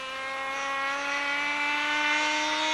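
A radio control model airplane engine whines at a high pitch, loud and steady, with its tone rising slightly as it runs alone without voices.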